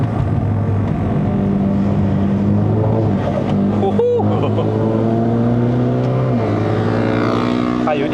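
The engine of a Stage 2 tuned F22 BMW 220i drones loud and close on a mountain road up to Genting, Malaysia, with shifting pitch as it climbs and lifts, marked by a brief sharp gear-change blip midway.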